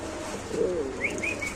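A pigeon coos close by, a soft low warbling call followed by a few brief higher chirps.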